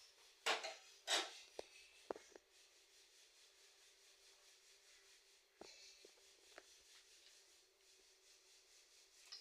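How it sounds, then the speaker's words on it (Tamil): Dried cauliflower pieces tumble into a metal cooking pan with a couple of scraping clatters at the start, followed by scattered light knocks and clinks of a utensil against the pan, fairly quiet and close. "இப்போ நம்ம அதை ட்ரை பண்ணி வச்சுருக்க காலிஃப்ளவர் எடுத்து அதில் போட்டுக்கலாம்"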